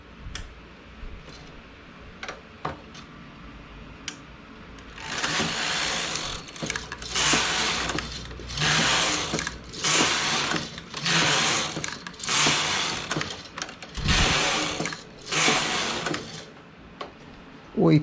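A knitting machine carriage swept across rows while making a hair ornament, loud whooshing mechanical passes in a steady back-and-forth rhythm after a few scattered ticks and clicks, with a voice talking in places.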